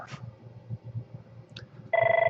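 A telephone rings for a Landauer account call left for voicemail to pick up: soft handling noise, then a loud, steady pulsing electronic ring starts near the end and continues alone.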